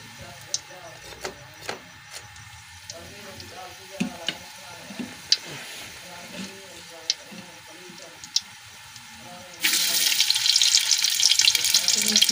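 Hot ghee in a metal pot gives a low crackle with sporadic clicks and scrapes while someone talks over it, then a sudden loud hiss bursts up as onions go in and keep frying.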